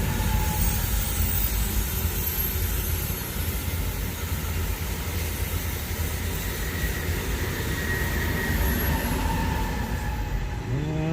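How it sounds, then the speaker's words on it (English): A bullet train on the Orlando to Miami line rushes past close by, a loud, steady roar of rail noise and rushing wheels filling the whole stretch, with a brief squeal near the end. "here comes the train, so you're gonna hear me for a second"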